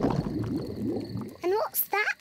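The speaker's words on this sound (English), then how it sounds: "My tummy rumbling is one of the best sounds of nature." A Peppa Pig cartoon character's stomach rumbles at a campsite, with low gurgling bubbling first, then a few springy, rising gurgles, all fairly close.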